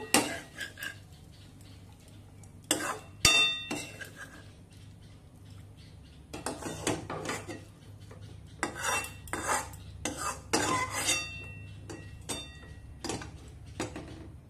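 A spoon scrapes and clinks against a pan while ash gourd curry is mixed and served onto a plate, in scattered sharp metallic taps and scrapes over a quiet kitchen background.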